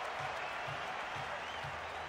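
Crowd cheering and applauding in the Kinect Sports beach volleyball game on Xbox 360, a faint, steady wash of clapping and cheers with a soft rhythmic thump repeating underneath.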